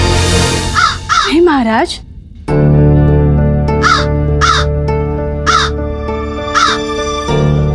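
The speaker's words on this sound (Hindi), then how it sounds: "आज ये कौवे हैं आपके श्रोता" Crows caw repeatedly in sharp, harsh bursts, several calls spaced across the stretch, loud and near, with someone speaking and a sustained musical drone underneath for most of it.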